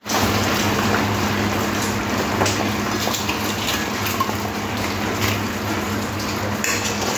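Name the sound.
fried chitol fish added into boiling gravy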